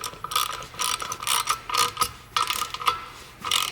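A ratchet wrench clicks in rapid bursts while driving a bolt and nut into place, with short rhythmic strokes and brief pauses, close up and clear.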